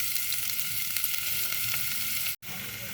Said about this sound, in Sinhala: තෙල් ටික රත් වෙනකොට කපාගත්තු සුදු ලුණු ටික එකතු කරනවා